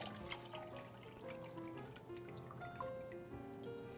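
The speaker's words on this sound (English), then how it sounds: "I'm doing it through a strainer because some of the shell got in there" Coconut water draining through a kitchen strainer that catches bits of shell: a faint, soft trickle with light drips, steady and close, with no talking.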